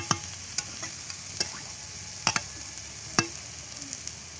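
Taro leaves frying in a pan and being stirred, with a handful of sharp spatula scrapes and clicks over a low, steady sizzle, close and fairly quiet.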